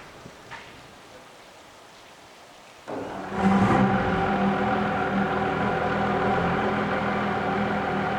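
Quiet background, then a 2019 Evinrude E-TEC 150hp outboard motor fires up after a few seconds and keeps running with a steady, rough, loud drone.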